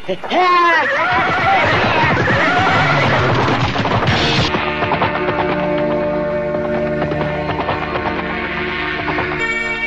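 Horses whinny and neigh amid galloping hooves in a race scene from an Indonesian radio drama, loud and continuous over ten seconds with music-like layered sound effects and voices mixed in.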